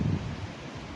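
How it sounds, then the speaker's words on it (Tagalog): Strong wind on a seaside beach roars across the microphone in a dense, steady rush, with a louder low buffeting gust at the start. "grabe ang lakas ng hangin."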